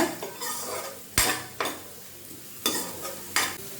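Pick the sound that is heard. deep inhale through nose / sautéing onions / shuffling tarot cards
sautéing onions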